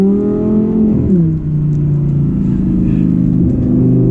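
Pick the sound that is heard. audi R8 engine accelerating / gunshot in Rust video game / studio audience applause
audi R8 engine accelerating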